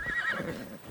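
A horse in Assassin's Creed Shadows gives a short, bright whinny close by, with faint hoof movement underneath.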